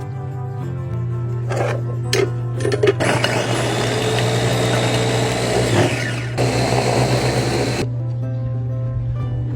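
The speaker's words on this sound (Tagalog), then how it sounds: "At dahil nga isasalang natin to sa food processor ito at hiniwa-hiwa ko muna ng maliliit para mas madali ang" A food processor grinds small pieces of chopped cassava for a cassava cake. The motor whirs loud and close, steady throughout, its tone shifting as the chunks churn.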